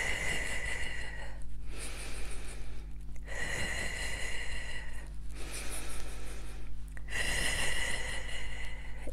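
A person breathes in deeply and breathes out through the nose, three times in a slow and even rhythm, close and clear during a Brain Gym relaxation exercise.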